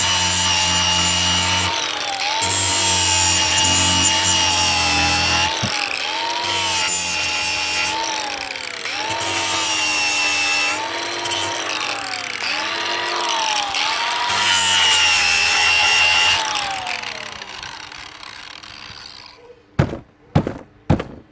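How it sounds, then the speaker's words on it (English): A power grinder working down flattened screws on a vent pipe boot on a roof, a loud close whine that rises and dips in pitch over a long stretch, then cuts off and is followed by a few sharp knocks. "Now we'll go around and we'll grind where the screws were flat."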